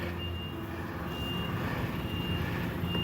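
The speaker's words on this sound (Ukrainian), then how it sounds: "знімаємося з рушничка і даємо задній хід." A truck backing under a trailer sounds a steady reversing beep, repeating evenly at a moderate distance over a low engine rumble.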